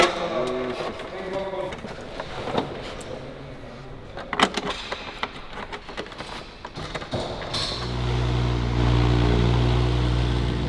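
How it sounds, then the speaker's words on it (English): A tuned 1400HP McLaren 720S fires up around the eight-second mark, dropping into a loud, steady, rumbling cold-start idle after several seconds of workshop clatter and brief talking. "we will prepare everything to start the car"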